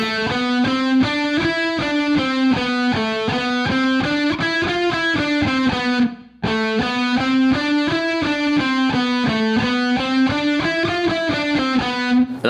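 An electric guitar alternate-picks a rapid, even run of notes climbing from A through F and back down in a repeating pattern, with a brief pause midway. It is close and clear, with slight overdrive and no talk.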